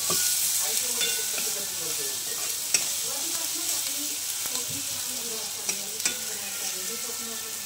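An onion mixture for shev bhaji fries in a pan with a steady, dense sizzle throughout, and occasional stirring taps and scrapes sound up close.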